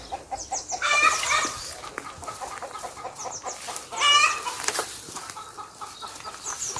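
Hens clucking nearby in short, repeated bursts, with a couple of louder squawks and some rustling, no voices.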